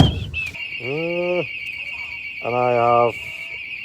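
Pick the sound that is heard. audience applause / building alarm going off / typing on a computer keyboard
building alarm going off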